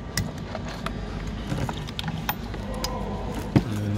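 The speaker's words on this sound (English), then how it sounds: "And then that's how you get the plugs out," A socket wrench with extension works a spark plug out of a BMW 2 Series Gran Tourer 218i 1.5 engine, giving close ratcheting clicks and metallic scrapes, with a sharper clunk near the end.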